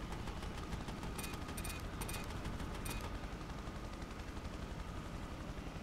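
Helicopter weapons fire in the video game Prototype, rapid bursts of gunfire crackling over a steady rotor and engine drone, with a few sharp bright clusters early on before settling into the continuous mechanical hum.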